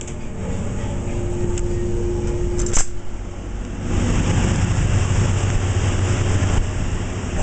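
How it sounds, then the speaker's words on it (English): Steady, loud mechanical rumble and broadband noise from a drilling rig running nearby, droning throughout, with a brief sharp clank near the middle. "you can hear the rig running"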